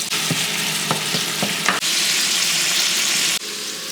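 Ground beef sizzles and fries in a pan while being stirred, with several scraping knocks of the utensil early on over a constant crackling hiss that swells louder midway.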